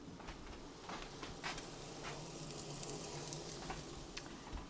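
Shrimp scampi sautés in a pan with a steady, quiet sizzle and crackle, small pops scattered through a continuous frying hiss, heard alone without talk.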